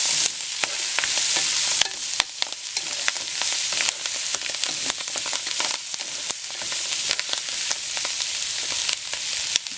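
Pancit bihon rice noodles sizzle steadily while they are stirred and tossed in a hot pan. The constant frying hiss is punctuated by sharp scraping and clinking from the utensil, with no voices.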